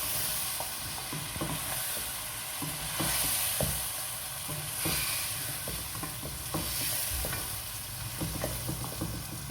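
Ground spice paste for mutton siri paye sizzles and fries in a pan, with steady hissing and the repeated scrape and clatter of a spoon stirring it up close.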